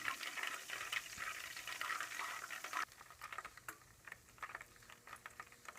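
Butter boiling into ghee in a pan on a home stove, a soft, continuous crackle and bubbling sizzle heard close and faint with no talking.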